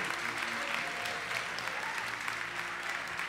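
Church congregation applauding steadily and fairly evenly throughout, a dense wash of clapping with faint voices mixed beneath it.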